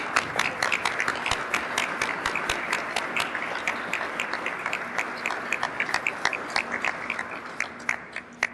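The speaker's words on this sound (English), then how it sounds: "so give him a round of applause" An audience claps through closing remarks at the end of a state legislative session, a dense, steady round of applause whose sharp individual claps grow sparser and more distinct toward the end.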